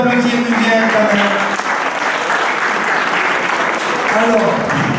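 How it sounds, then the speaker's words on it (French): Audience applause at a wellness fair in Nice, a loud, sustained burst of many people clapping that fills the space evenly, with a voice speaking briefly at the start and again near the end. "Bien, on peut applaudir Muriel quand même."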